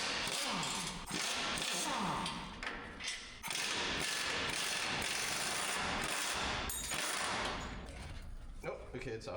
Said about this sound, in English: Ben's just taking all the big bolts out of the front mount right now